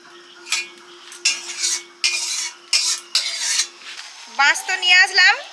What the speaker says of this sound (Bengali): ওটা একটু ভাজা করে নেব